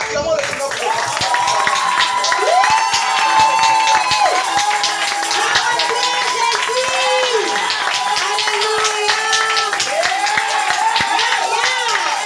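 A church congregation claps and cheers loudly and steadily, with raised voices calling out over the applause and someone speaking through it.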